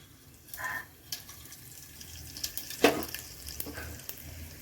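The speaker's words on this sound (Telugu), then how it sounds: "ముందుగా కొంచెం గిన్నెలో ఆయిల్ వేసుకోవాలి. వేసుకున్న తర్వాత కొంచెం జీలకర్ర వేసుకోవాలండి." Cumin seeds sizzle and crackle in hot oil in a pot on a home stove, with light intermittent popping and a soft, steady frying hiss.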